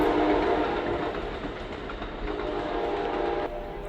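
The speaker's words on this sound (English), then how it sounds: "Is that the train? Sound like the train coming." An Amtrak passenger train rumbles past close by, a continuous heavy roar with rattling wheels that holds steady throughout.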